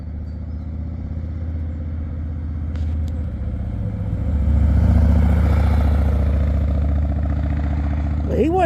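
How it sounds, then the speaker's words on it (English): A motorcycle passes on a rural mountain road, its engine rumble swelling from a steady background drone to a louder, close pass midway, with a short whine at the end. "Here's a motorcycle."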